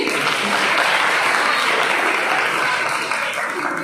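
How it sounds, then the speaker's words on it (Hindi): A college audience at a poetry recital applauds loudly. Dense, sustained clapping fills the hall without a break and eases slightly toward the end. "सब जरा जोरदार तालियां बजा दीजिए।"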